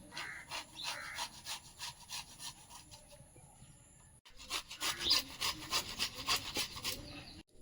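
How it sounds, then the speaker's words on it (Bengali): Ginger and garlic being grated for a Kashmiri chicken spice paste, with rhythmic, quiet rasping strokes, a brief pause midway, then a second run of slightly louder strokes. "আদা রসুনটা করনে কুড়ে নিচ্ছি"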